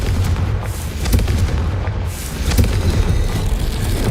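The Confringo blasting spell detonates in Hogwarts Legacy, a loud, close rumbling boom with heavy low-end crackle that rolls on for several seconds.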